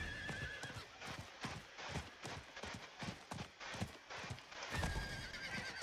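Steady clip-clop of horse hooves at a trot in the video game Diablo 4, rhythmic and fairly close, with a horse whinnying at the start and again near the end.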